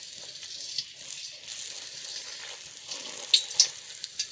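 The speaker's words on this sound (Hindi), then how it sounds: "तो हमने ये गोलगप्पे बना लिए हैं तो अब हम इनको फ्राई कर लेते हैं" Golgappa puris deep frying in hot oil, a quiet steady sizzle broken by a few sharp pops and crackles near the end.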